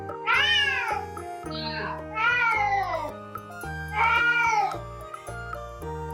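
A kitten meows repeatedly, three or four loud, drawn-out rising and falling cries close by, with steady background music or hum underneath.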